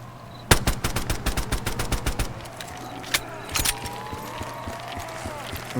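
Rapid bursts of pistol gunfire in Black Ops 3 custom zombies on the Haltow Farms map, a fast string of crisp shots followed by a couple of isolated later shots over faint game ambience.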